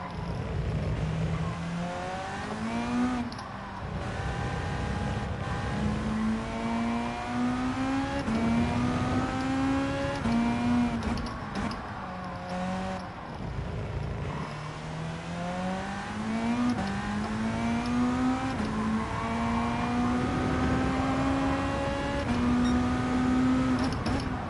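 A race car in Gran Turismo 7 screams through a steady lap, its engine note climbing through the gears in repeated rising sweeps with brief dips at each shift, loud and continuous.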